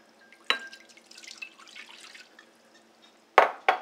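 Water drips and splashes onto a ShamWow towel in a few sharp bursts, with soft trickling between them, close and clear with no voices.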